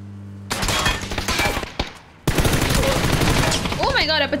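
Rapid bursts of video game gunfire crackle loudly through most of the stretch, broken by a brief drop near the middle, with a synthetic musical sweep toward the end.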